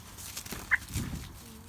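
Faint, brief clucking from Ispenç chickens, a single soft call standing out against quiet background noise.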